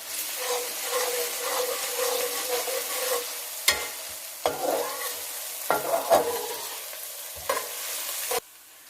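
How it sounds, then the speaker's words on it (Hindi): Soft onions frying with ginger garlic paste in a pan give a continuous close sizzle. Several sharp scrapes and clacks of a spoon stirring against the pan break through it, and the sizzle cuts off abruptly at the end. "हमने अदरक लहसुन का पेस्ट डाला था, नॉर्मल सा फ्राई कर लिया है"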